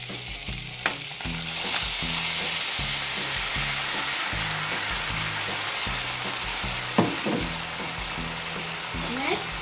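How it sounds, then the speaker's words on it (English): Soy sauce poured over seared pork belly sizzles steadily in the pan, a close, continuous frying hiss with occasional stirring clinks, while soft background music plays underneath. "I already seared up my pork belly. So, I will be putting my soy sauce."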